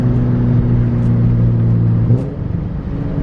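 A turbocharged Nissan 350Z with a VQ engine revs close by, a loud rough drone that holds steady and then drops off as the revs fall.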